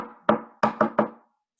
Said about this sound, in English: the wolf knocked at the door of pig 1's house.